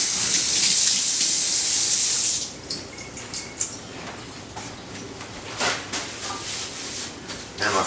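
Running water rinses a cloth-covered bowl of thick homemade Greek yogurt in a kitchen, a steady broadband gush for the first two seconds that then stops, leaving scattered light clatters and drips.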